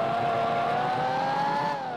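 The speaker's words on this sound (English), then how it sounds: "This engine note do be strange sounding" Simulated car engine in Gran Turismo 4 Prologue on PS2, droning steadily at high revs with a slowly rising pitch, loud and continuous through the short stretch.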